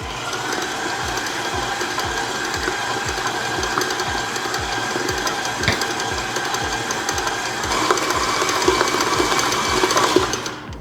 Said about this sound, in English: we're going to turn the mixer on low to medium